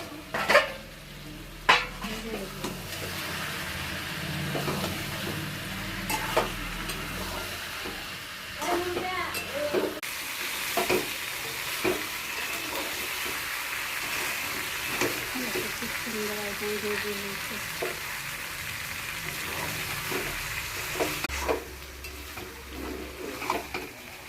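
Potatoes and garlic frying in a pan, with intermittent scraping and stirring, clinks of a utensil against the pan and a soft sizzle underneath, with some talk mixed in.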